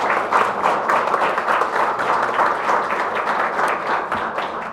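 Audience applause at a Korean intellectual property policy forum in the National Assembly, honoring lawmakers: dense, steady clapping from a sizable crowd, sustained at an even level throughout without voices.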